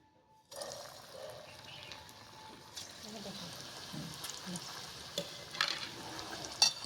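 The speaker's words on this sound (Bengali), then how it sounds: "তেলটা গরম হয়ে গেছে তো এইভাবে গোল করে করে পাকিয়ে এবার এগুলো ভেজে নেব" Soybean balls coated in gram flour fry in hot oil, a soft steady sizzle that starts abruptly and continues with faint stirring and bubbling.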